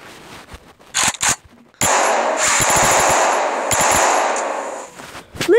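Rapid pistol gunfire from the video game Flip the Gun: a couple of sharp bursts early on, then a loud, sustained spray of shots that runs for several seconds, close and dense.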